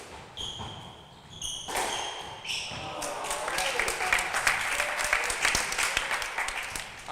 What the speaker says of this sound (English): Can't beat a raucous crowd on finals night, eh?